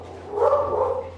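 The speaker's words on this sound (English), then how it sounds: "We got dogs barking." Dogs bark in a continuous, muffled burst near a gate, steady and moderately loud against a low background hum, with no talking over it.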